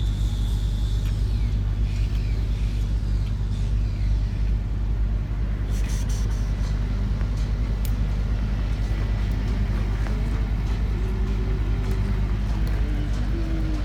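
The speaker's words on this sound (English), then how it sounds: "Look at that nice truck." Heavy road vehicle rumbling steadily nearby, a constant low engine drone with a brief hiss of air brakes midway and a faint rising whine later on.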